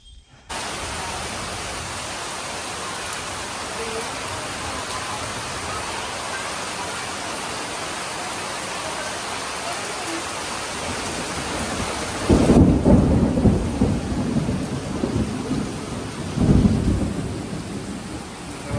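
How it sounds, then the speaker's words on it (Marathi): Heavy rain pours steadily at a Konkan village house, a dense, unbroken hiss of water, while deep rumbles of thunder swell loudly in the later part. "पाऊस आलेला आहे जोरात."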